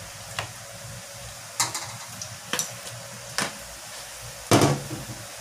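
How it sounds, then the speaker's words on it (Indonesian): Potato donuts frying in oil over low heat, a steady soft sizzle with several sharp crackles and pops scattered through, close and without talk. "digorengnya pakai api kecil aja bun."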